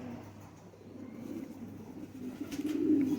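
A female Ferozpuri pigeon coos softly nearby, a low, throaty murmur that swells louder toward the end over faint background noise.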